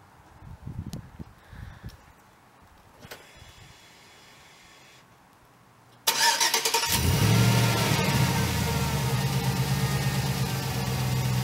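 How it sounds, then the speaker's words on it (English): A pickup truck started by remote starter: quiet mechanical clicks and faint sounds first, then the engine abruptly cranks and catches, settling into a loud, steady idle that runs on to the end. "So now the truck will run for about 15 minutes unless I tell it otherwise"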